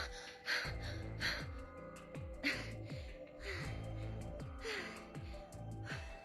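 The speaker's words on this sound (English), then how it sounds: "A lot of panting right now." Video game character panting in repeated short breaths, each with a falling tone, quiet and rhythmic over a soft background.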